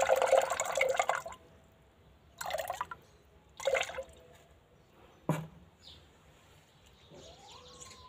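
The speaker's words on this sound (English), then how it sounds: "Now we will add iron sulfate and water to each solution." Iron sulfate solution and water are poured into solutions of crushed gold ore in short bursts, about four separate pours splashing into containers, with quiet gaps and faint background chirps between them.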